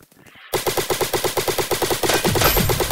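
Rapid automatic gunfire in a Roblox first-person shooter game, a loud, evenly spaced burst of about twenty shots that begins abruptly after a brief quiet moment and grows denser toward the end.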